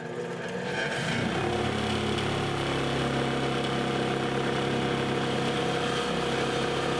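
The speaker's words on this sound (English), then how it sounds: "when I say the brass wheel, this is the brass wheel" A bench grinder spins a brass wire wheel while restoring a rusted Yamaha DT Enduro motorcycle fuel tank, producing a loud, steady motor whine and hum that rises at the start and holds evenly throughout.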